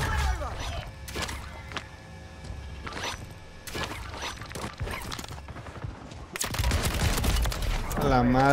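Shotgun blasts in a video game, several sharp shots spread across the stretch with a denser burst near the end, mixed with other game sounds and a voice speaking.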